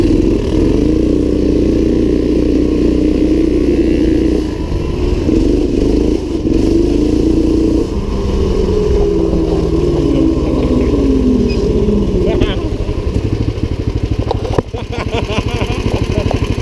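A small off-road car engine races and revs continuously at close range, its loud rough drone rising and falling in pitch, with clattering bursts near the end.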